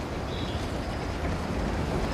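A moving train in the Uncharted game, a steady low rumble and rolling rattle that holds even and continuous, with no voices.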